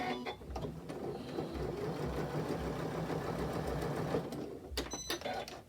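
A Janome S9 sewing machine runs a steady top stitch at a 1/4 inch, 8.3 setting, its needle beating in a fast, even mechanical rhythm, close and continuous with a few clicks near the end.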